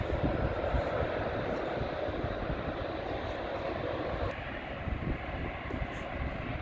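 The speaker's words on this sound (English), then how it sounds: "It's another British Airways landing." British Airways airliner landing at London City Airport on a stormy evening, heard as a steady, fairly loud broadband jet roar that holds throughout with slight dips, no talk over it.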